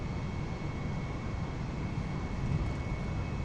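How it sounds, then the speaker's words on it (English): Jet engines of an Airbus A310 roar through a takeoff run, a steady, dense broadband rush with a faint high whine, continuous and close throughout with no voices. "As the engines spool up, the aircraft roars to life, the thrust building steadily."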